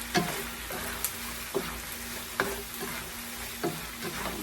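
Meat being sautéed with a splash of fish sauce in a pan, a steady low sizzle under repeated clinks and scrapes of a utensil stirring at intervals, close by with no talking.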